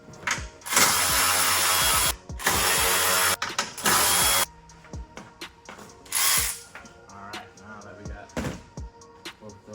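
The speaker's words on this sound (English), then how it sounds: "Listen to that horsepower in this drill." A power drill whines loudly in repeated short bursts, revving up and stopping, with clanks and rattles between runs, while coilovers are installed on an Infiniti G37.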